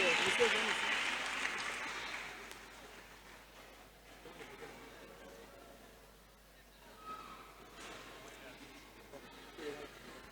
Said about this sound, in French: Une bonne offrande d'acclamation pour le Seigneur.